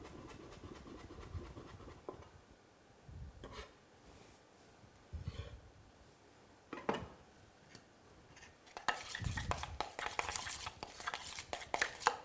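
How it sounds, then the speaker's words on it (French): Fresh herbs (dill, parsley, chervil, tarragon) finely cut with a knife on a board, quiet irregular scraping and tapping strokes with short pauses, then a denser, faster run of crisp cuts near the end. "de fines herbes ciselées au dernier moment, donc aneth, persil, cerfeuil, estragon éventuellement"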